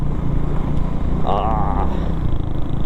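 Motorcycles pass on a mountain road toward Tungnath, a steady engine drone with one rider's revving note rising briefly in the middle, heard alongside chatter.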